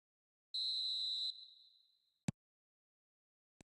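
A referee's whistle opens a match in the eFootball video game, one long shrill blast that trails off, followed by two sharp isolated clicks.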